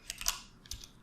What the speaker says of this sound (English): So what I'm going to do is type in upload video